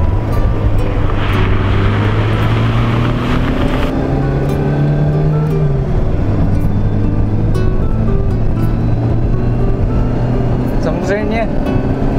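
A Seat 1200 Sport Bocanegra with a four-speed manual gearbox drives along, its loud engine droning steadily and rising in pitch through the revs, while someone talks over it from inside the car.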